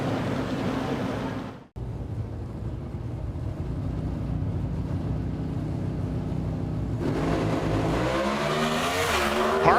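A drag racing car roars through a run at an NHRA national event, the loud engine wail steady and powerful for most of the stretch after a brief cut, with rising pitch sweeps near the end.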